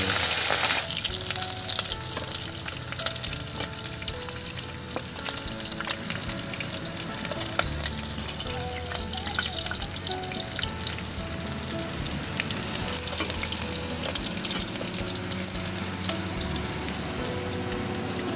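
Freshly caught bisugo fish fries crisp in hot oil, a loud, dense, unbroken sizzle and bubbling crackle held close for a long stretch.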